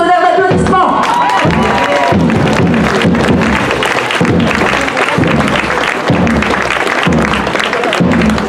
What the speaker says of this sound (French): je pense qu'il mérite des tonnerres d'applaudissements